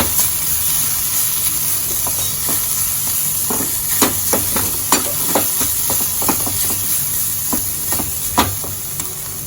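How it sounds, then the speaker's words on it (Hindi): Boiled potatoes are mixed with salt in a bowl for vada, a spoon knocking and scraping in an irregular series of sharp clicks over a constant background hiss, close and fairly loud. "अब हम इनको अच्छे से मिक्स कर देंगे।"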